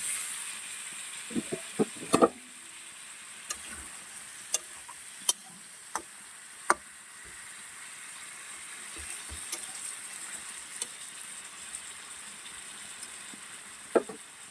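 Potato slices frying in a pan give a soft, continuous sizzle, broken by scattered sharp pops and light clinks from stirring, near and without speech.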